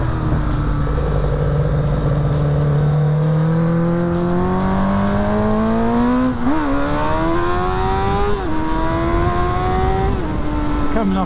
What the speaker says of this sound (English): Right, first gear, flat out.